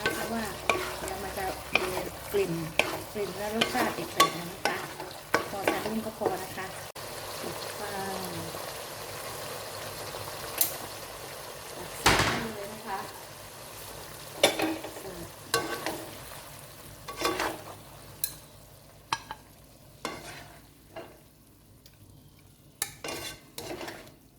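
Pork belly being stir-fried with shrimp paste and Karen chili, giving a low sizzle broken by repeated spatula scrapes and clanks against the pan, close by, with a few quiet voices in the first half.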